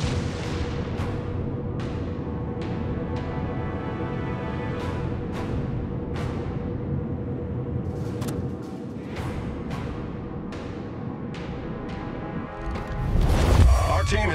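Naval guns in World of Warships boom as a series of distant, muffled shots over a constant low rumble, with a louder blast near the end and radio-style voices talking throughout.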